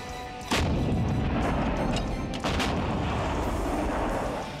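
Artillery guns firing at the Line of Actual Control in Ladakh, two heavy booms that open into a long, rumbling roar filling the air.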